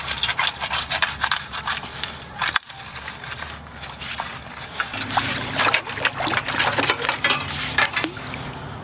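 A metal-tined clam rake scrapes and grinds through sandy, shelly bottom while digging up hard clams, a series of close rasping scrapes and knocks with a brief pause partway through.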